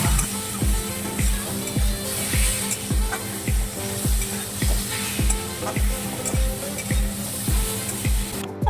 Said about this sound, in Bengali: এবার আমটাকে 2-3 মিনিট ভেজে নেব।